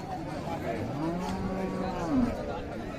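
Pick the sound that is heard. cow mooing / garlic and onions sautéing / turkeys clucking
cow mooing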